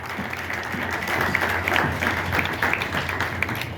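Audience applauding at a rockabilly vintage fashion show in Ohio, a steady, dense clapping that holds for about four seconds with scattered cheers mixed in.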